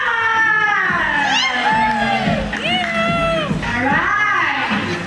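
Guests at a herbal hot spring resort in Calamba, Laguna shout loudly together on cue, a dense crowd of overlapping voices and high yells and cheers, close and sustained.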